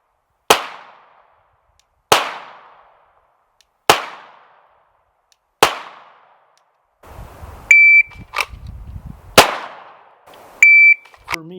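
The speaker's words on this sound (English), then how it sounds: "I'm shooting the G34 with the Surefire X300 on it" A Glock 34 pistol fitted with a Surefire X300 light fires about six loud, sharp shots outdoors at roughly regular intervals, with brief electronic beeps from hearing protection between the later shots.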